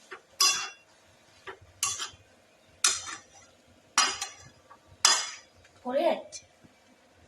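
Carrot and onion being stirred in a pan, with five or six sharp metallic scrapes and clinks of a spoon against the pan at a steady rhythm, close and fairly loud, with a faint background hum between strokes.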